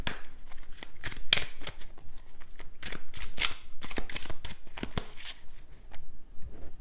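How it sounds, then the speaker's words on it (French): Tarot cards are shuffled and laid out in quick bursts of riffling and soft slaps, close and crisp, easing toward the end. "On va recouvrir les cartes."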